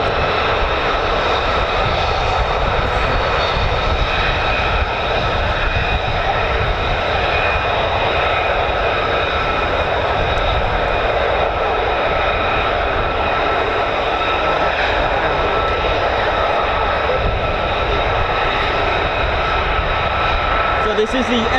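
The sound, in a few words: Lockheed F-35A fighter jet engine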